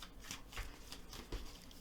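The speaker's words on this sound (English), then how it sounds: "I'm going to just shuffle them 2 or 3 times because I do shuffle them in between readings." Tarot cards being shuffled by hand, a few quiet papery riffles and soft slaps at close range, faint and brief with no talk.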